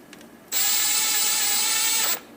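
An electric driver spins bolts in gently during a 2009 Allison transmission internal mode switch replacement, giving one sustained high-pitched whine for about a second and a half that starts and stops abruptly.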